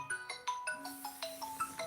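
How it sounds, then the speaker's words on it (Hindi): A mobile phone rings with a short, faint melodic ringtone of quick repeated beeping notes, heard alone with no talk. "वासु भाई के जो है फ़ोन बजा थे"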